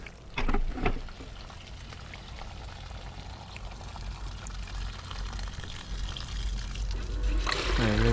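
Water pours and trickles while a bucket of gold ore is rinsed out, a steady wet wash with a splash near the start and a brief voice toward the end.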